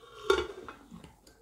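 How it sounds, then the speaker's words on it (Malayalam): A pressure cooker lid is set down and closed with one sharp metallic clank, followed by fainter clinks and light rattles of cookware close by in a home kitchen. "ഇനി നമുക്ക് കുക്കർ മൂടി വെച്ച്"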